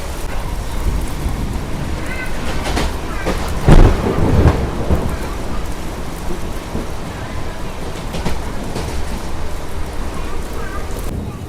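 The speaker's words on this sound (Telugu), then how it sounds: "వర్షం అయితే ఫుల్గా పడుతుంది కదా" Heavy rain pours during a thunderstorm with lightning near Dwarapudi station on a Vijayawada to Visakhapatnam MEMU train route; a steady roar of rain runs throughout, broken by a sharp, loud thunder crack partway through.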